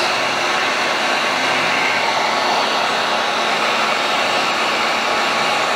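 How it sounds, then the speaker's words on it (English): A heat gun blows hot air onto shoe sole protectors as a continuous, loud, even rushing whoosh that holds steady from start to finish with no voices. "turn on your heat gun"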